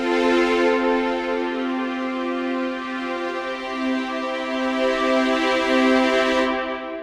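A full string-section sustain patch from a free orchestral software instrument plays a lush, warm chord held steadily for several seconds, swelling gently before it cuts off.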